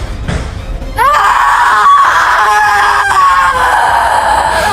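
Ghostly creature in a Hindi cartoon story lets out a loud, sustained wailing scream with a sliding pitch, heard alone after a brief low rumble.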